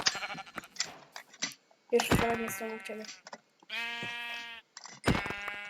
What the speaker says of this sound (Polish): Trzy owce, trzy idealnie owce.